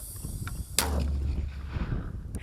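A mortar fires: a single sharp, loud blast cracks out, followed by a low rumbling echo that fades slowly; a fainter thump comes just before it.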